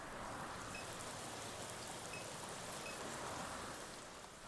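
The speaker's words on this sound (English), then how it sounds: "The downpour finds its way into the drainage canal." Heavy rain pours down steadily in the NORCO video game, a dense even hiss of a downpour with no voices.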